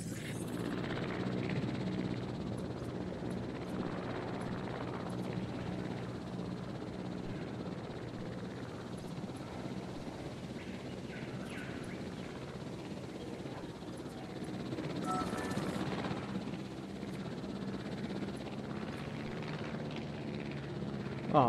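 A helicopter flying in the video game Jurassic World Evolution gives a faint, continuous rotor drone that swells slightly midway and carries on without speech.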